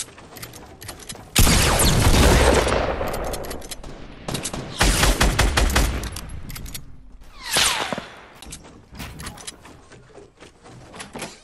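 Heavy shotgun and rapid gunfire in a Fortnite match: loud sustained bursts of shots come in several waves, close and harsh, separated by quieter gaps with clicks and mechanical rattles.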